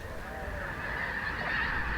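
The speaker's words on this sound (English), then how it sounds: "Pretty much every pond I passed had birds on it, swans, or snow geese." Snow geese on an autumn pond give a few faint, distant honks over a steady outdoor wind and background hum.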